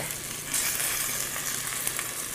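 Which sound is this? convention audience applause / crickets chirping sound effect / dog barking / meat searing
meat searing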